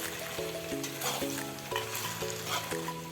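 Pork simmers in a pan with slit green chilies added, a continuous steady sizzle heard under a melodic musical backing.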